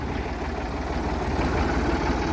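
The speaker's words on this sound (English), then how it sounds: "1966 880 David Brown Selectomatic. It's a 46 horsepower tractor, two-wheel drive" A 1966 David Brown 880 Selectomatic two-wheel-drive tractor with a 46 horsepower engine, idling nearby with a steady, low, even chugging rumble and no voices.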